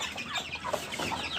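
A free-range village rooster clucks nearby in a short run of quick, scratchy calls over a steady outdoor background.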